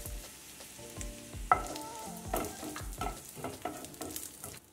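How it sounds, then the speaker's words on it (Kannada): White sesame seeds sizzle and crackle in hot oil with ginger while a spoon stirs the pan, giving irregular sharp pops and scraping clinks up close, with no talking. "ಎಳ್ಳು ಸ್ವಲ್ಪ ಚಟಪಟ ಆಗಲಿ."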